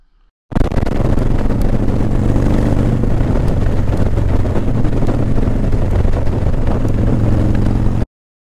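A loud, steady engine drone from a bike being ridden, a constant low rumble that starts abruptly and cuts off just as suddenly, with no talking.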